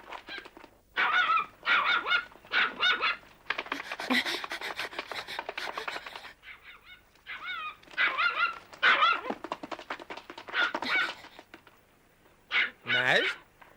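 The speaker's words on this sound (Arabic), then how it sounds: "بوغي ينبح على شيء ما." A dog barks in short, repeated yips and bow-wows spread across the scene, close by, with people talking in between.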